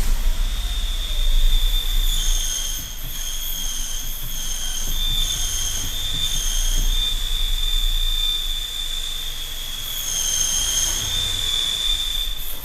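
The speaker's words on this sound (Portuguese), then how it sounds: "Dá muito barulho do rolamento" A worn clutch release bearing on a Peugeot 208 1.2, heard with the clutch pedal pressed, gives a steady high-pitched whine and squeal over rough mechanical rumble, continuous and fairly close, with no talk.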